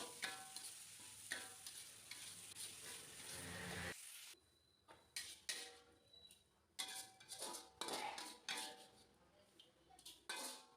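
Bean sprouts being stirred in a frying pan while cooking rice dishes, with loud sizzling frying for the first four seconds, then quieter intermittent scraping and clinking of a utensil against the pan.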